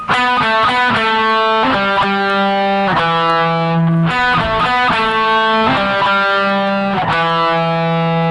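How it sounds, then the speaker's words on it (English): A distorted electric guitar plays a chugging riff of repeated chords and sustained notes, loud and thick, with no voices. "there is one last guitar part in the song"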